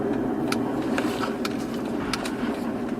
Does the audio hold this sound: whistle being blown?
no